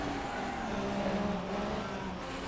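Race cars roaring past in a Formula 1 video game set at Monaco, GP2 2016 season, a continuous loud engine drone with steady pitched harmonics and no break, no talk over it.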